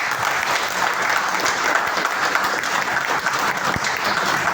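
Steady, dense applause from an audience at a motivational training session in Muzaffarnagar, sustained and fairly loud for the whole stretch, many hands clapping at once with no pauses.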